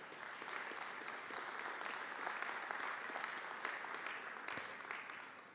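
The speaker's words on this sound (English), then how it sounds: "Round of applause." An audience at a county candidate forum gives a steady round of applause, dense even clapping heard from a distance at a soft level, lasting several seconds.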